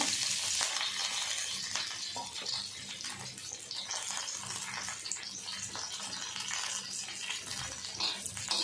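Green chillies and curry leaves hit a small spoonful of hot ghee in a pan, giving a bright, continuous crackling sizzle that stays close and busy, with sharper spits now and then.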